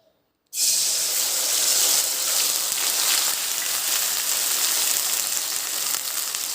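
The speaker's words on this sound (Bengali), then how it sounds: "কড়াই গরম হয়ে গেছে, এখন আমি পেঁয়াজ পেস্টটা দিয়ে দেব।" Onion paste hitting a hot pan for an egg curry, bursting into a loud, steady sizzle the instant it lands after a brief silence, then holding a dense, even hiss to the end.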